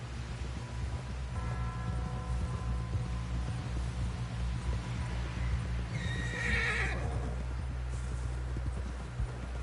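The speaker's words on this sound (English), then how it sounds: "Someone help John down off this horse." A horse neighs in a PS4 video game over a steady background hum, with faint rhythmic hoof clopping and a constant low drone throughout.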